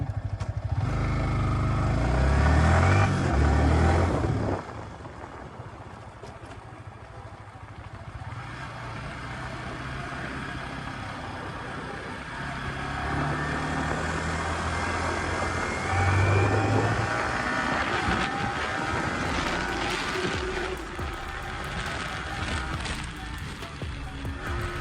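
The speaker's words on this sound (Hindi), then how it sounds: "आपको बाइक का एग्जॉस्ट नोट सुनने को मिलेगा" A Yamaha R15 v3 BS6 motorcycle is ridden, its exhaust note a continuous engine drone with surges of revving and gear changes, set against wind and road noise throughout.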